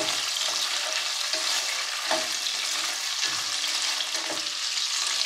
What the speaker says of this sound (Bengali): আগে 2-3 মিনিট তেলে ভেজে নিব।